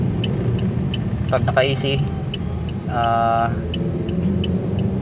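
Car engine idling steadily at about 600 RPM in a garage, a car whose fault is surging while driving and an unstable idle; a low, even rumble runs beneath someone speaking Filipino close by.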